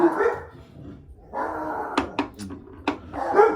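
Dogs bark intermittently in the background, a few sharp yaps and whines spaced out between quieter moments, moderately close.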